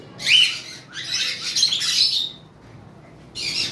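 Pineapple conure parrots at a breeding farm give loud, shrill bursts of chirps and squawks, two long calling bouts followed by a short pause and another burst, close by.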